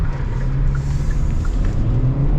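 A 2025 Kia Sportage X-Pro with a four-cylinder engine accelerates, giving a loud, steady low rumble and engine drone heard from inside the cabin, with no talking.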